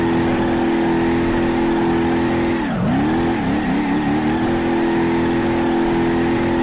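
A car in the BeamNG driving game runs with a loud, steady engine drone; midway the pitch dips sharply and wavers as the handbrake is pulled, then settles back to a constant hum.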